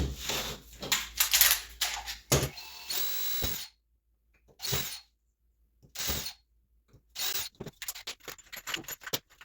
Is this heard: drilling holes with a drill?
yes